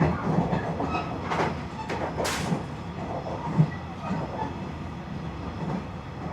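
Japanese local train rolling along its rails on a coastal line, heard from inside the car as a steady, loud rumble of wheels and carriage noise with a brief higher rattle partway through.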